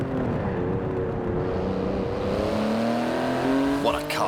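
A 700-horsepower car with a 3.8-litre twin-turbo flat-six and carbon-fibre body drives through Edinburgh in the racing game Forza Horizon 4. Its engine drones steadily, then rises gradually in pitch as it accelerates, closing with a short whooshing sweep.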